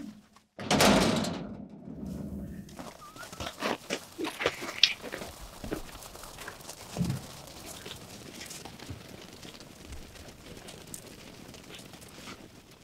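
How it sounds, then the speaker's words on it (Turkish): A door is pushed shut with a loud, close thud and rattle near the start, followed by faint creaks and knocks, while pigeons coo softly in the background. "Kapıyı ört sen"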